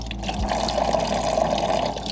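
Coolant drains from a 2023 Kawasaki ZX6R motorcycle into an old bucket, a continuous close trickling pour of liquid with a steady wash of sound throughout.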